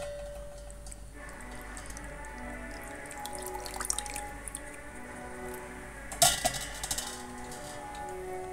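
Washed mutton being squeezed to drain off water: quiet drips and small splashes with a wet squelch, a louder splatter near the end, in a calm kitchen.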